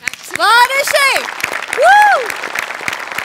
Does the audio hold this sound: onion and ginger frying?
no